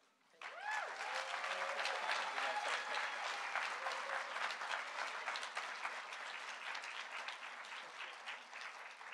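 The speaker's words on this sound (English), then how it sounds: "can we get one more round of applause for absolutely everyone that works at the J" An audience at an annual meeting award presentation breaks into dense, sustained applause that starts abruptly and holds steady for several seconds, fading slightly toward the end.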